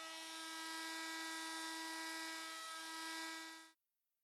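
A FEIN MultiMaster oscillating tool fitted with a large sanding disc and fine-grit sandpaper buzzes steadily on boat gel coat during renovation, a loud even high-pitched whine that cuts off abruptly.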